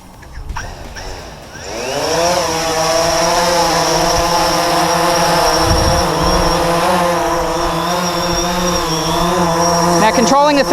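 A DJI Phantom drone taking off, its propellers spinning up from a quiet start into a loud, steady whirring whine that holds to the end.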